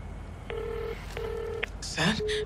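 Touch-tone telephone keypad dialing a number: a few steady paired beeps, each about half a second, with short gaps between them, followed by a brief rustle and one more shorter tone, heard close and clear.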